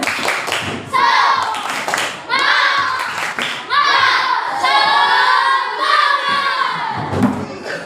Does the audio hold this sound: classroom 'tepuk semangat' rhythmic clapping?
yes